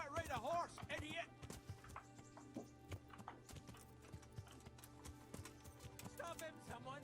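Horse hooves clip-clop in the medieval video game Kingdom Come: Deliverance, a quick steady rhythm of close hoofbeats with brief whinny-like bursts and game sounds around them.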